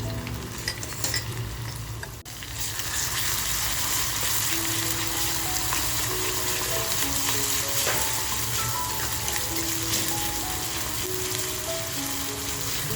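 Garlic and ginger frying in hot oil in a kadhai, a steady dense sizzle with crackling spatters that swells and holds loud and close throughout.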